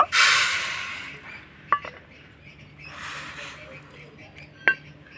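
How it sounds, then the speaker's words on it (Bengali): Dry mustard seeds poured into a metal plate: a bright rattling pour at the start, then a softer second rattle and a few sharp clinks against the plate. "তো প্রথমে আমি সরষেটাকে আমি এ থালার মধ্যে ঢেলে নেব।"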